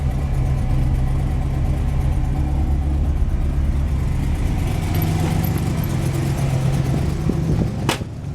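A 1957 Dodge Royal Lancer engine idles steadily nearby with a low rumble and a slight uneven stumble, and a brief sharp click comes near the end.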